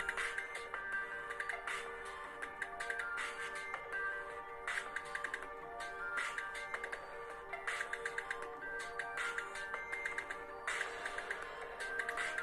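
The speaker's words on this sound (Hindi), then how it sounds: "अभी मैंने आपके सामने एक म्यूजिक चलाया जो कि नॉर्मली आवाज़ है।" Music playing from a mobile phone speaker at normal volume, faint and thin, a steady tinkling melody with light rhythmic ticks continuing throughout.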